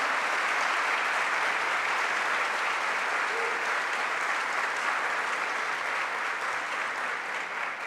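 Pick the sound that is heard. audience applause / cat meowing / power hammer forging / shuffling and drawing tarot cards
audience applause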